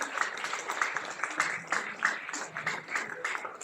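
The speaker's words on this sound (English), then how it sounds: "Give a big round of applause to all these bigwigs." A crowd at a formation day celebration gives a round of applause, a fairly close, steady patter of clapping hands throughout.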